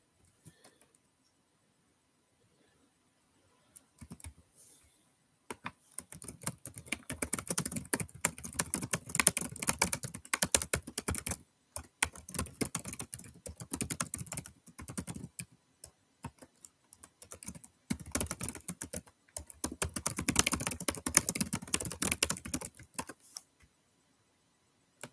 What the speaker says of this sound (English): I'm just going to quickly type something to somebody.